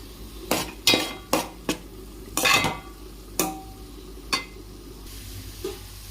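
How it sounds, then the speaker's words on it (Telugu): Onions and green chillies fry in about four tablespoons of oil for a fish curry, with a low sizzle beneath a series of sharp, close spatula clanks against the pan. "అందులోని ఉల్లిపాయలు పచ్చిమిర్చి వేసుకొని వేయించుకోవాలండి"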